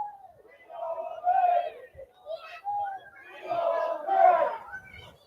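A football crowd packed behind the goal at a Guernsey FA Cup extra-preliminary round match against Bedfont Sports rises in rolling waves of cheering and shouting as Guernsey win a corner, with voices swelling loudest near the end.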